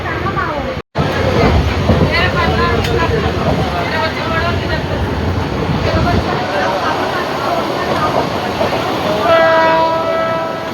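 Train pulling into Talegaon railway station, heard from on board: a loud continuous rumble of rolling wagons with clattering wheels, a brief dropout near the start, and a sustained horn tone near the end, with people talking underneath.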